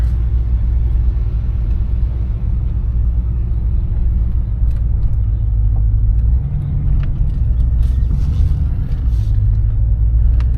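A 1996 Chevrolet Impala SS on 6s pulls out of a driveway, its engine giving a steady, loud low rumble throughout with no talk.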